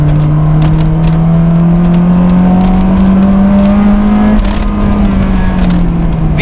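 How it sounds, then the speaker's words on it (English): A JDM Honda S2000 engine revs steadily upward into VTEC near 5,800 rpm, its exhaust note a loud, smooth rising drone held for several seconds before easing off slightly, with no talking. "And the exhaust note, it's definitely more quiet than the single exit one, but it still sounds lovely."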